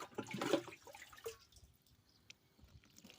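Water being scooped and poured into a pesticide sprayer tank for a corn field, a short close splashing gush followed by fading drips and trickles, with no talk.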